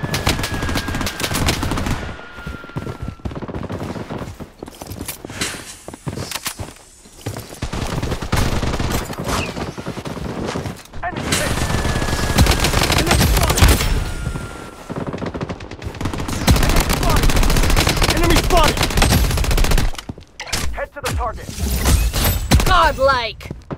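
Rapid bursts of automatic gunfire and single shots crackle continuously in the video game Blood Strike, loud and close, mixed with game sound effects and occasional voice callouts.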